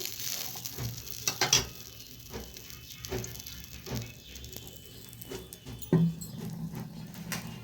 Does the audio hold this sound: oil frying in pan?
yes